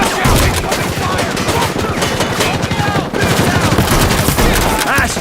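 Rapid bursts of automatic gunfire ring out in the video game Rainbow Six Siege, dense and loud with sharp cracks, a brief pause near the middle and then more sustained shooting, with voices shouting underneath.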